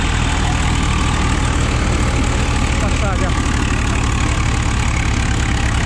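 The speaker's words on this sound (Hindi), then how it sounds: "न्यू ऑलैंड 3630 प्लस और 14855 एफई 5 स्टार ट्रैक्टर है" Two tractors, a New Holland 3630 Plus and an FE 5 Star, idle together on a dirt field with a steady low engine rumble throughout, while people talk nearby.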